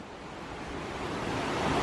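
A rushing river on the Pacific Crest Trail near Mount Whitney, steady broadband water roar that holds constant and swells slightly louder toward the end, with no talk.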